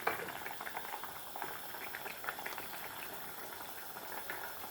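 Food boils steadily in a pot, a dense continuous bubbling and simmering close by, with no talk over it.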